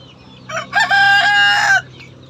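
A rooster crows loudly nearby in a backyard flock of chickens, one drawn-out raspy call lasting about a second, preceded by a short clucking note.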